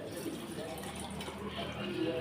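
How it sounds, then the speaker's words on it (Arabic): Water pours into a thick hibiscus drink as a soft, continuous trickling fill. It is quiet and close, with faint background sounds. "هزود طبعا ميه عشان انا عاملاه"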